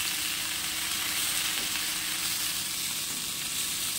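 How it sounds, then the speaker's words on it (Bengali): Onion frying in a pan for a light Bengali curry, a steady, even sizzle of oil holding at a constant level for the whole stretch, close by with no voices. "দেখো পেঁয়াজ আমার ভাজা হয়ে গেছে"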